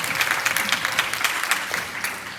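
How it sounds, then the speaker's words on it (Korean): A group at a summer retreat gives another round of applause for a group leader, steady many-handed clapping throughout with no one speaking. "박수 한 번 더 주세요."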